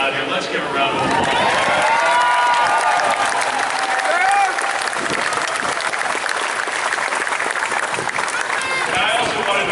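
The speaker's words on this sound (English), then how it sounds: "Let's give a round of applause." A stadium crowd at a San Francisco Giants Wall of Fame ceremony applauds and cheers for Mike Murphy, a broad continuous roar of clapping and shouts holding steady throughout.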